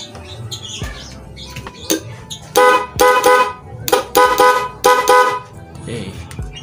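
A dual double horn fitted to a motorcycle with a relay honks in several loud bursts of varying length, each a bright, buzzy blare, with quieter background noise between them.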